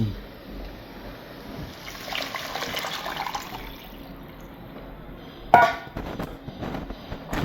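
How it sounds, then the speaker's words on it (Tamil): Tamarind and ground coconut mixture poured into a simmering fish curry, a soft liquid pour and splash with sharper sloshing near the end, close by and without talking. "அது உள்ள நல்லா ரெண்டையும் மிக்ஸ் பண்ணி வச்சிருக்கேன் அதை ஊற்றிடுவோம்"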